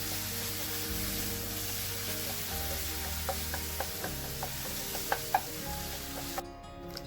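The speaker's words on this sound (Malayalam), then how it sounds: "ഇനി നമുക്കിതിലേക്ക് കുറച്ച് കരിവേപ്പില ചേർത്ത് കൊടുക്കാം." Curry leaves dropped into tomato masala frying in a pan, a steady close sizzle with occasional stirring scrapes and small crackles near the end.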